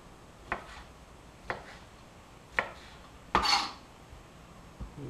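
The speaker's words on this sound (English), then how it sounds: "we'll coarsely chop the jalapenos" Knife coarsely chopping jalapenos for a Ninfas-style green sauce, four sharp separate cuts against a board at uneven spacing, close and fairly quiet, the last one heavier and followed by a brief scrape.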